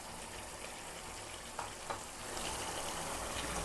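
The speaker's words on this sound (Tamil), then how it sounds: "கீரை சேர்த்து நல்லா மிக்ஸ் பண்ணி விடுங்க." Spinach being stirred into chicken frying in a pan, a soft, steady sizzle with a couple of brief scraping clicks from the stirring, fairly quiet and close.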